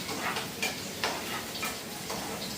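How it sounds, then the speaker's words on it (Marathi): Onions fry in a pan with a steady, close sizzle, crackling bursts rising roughly every half second over a constant hiss. "इथे पण कांदा फ्राय होतोय"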